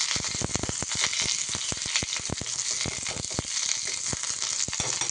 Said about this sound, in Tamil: இப்போ நம்ம இந்த கருவேப்பிலை 2 டைமாக போட்டு நம்ம அந்த நெய்யில் போட்டு வறுத்து எடுத்துக்கலாம்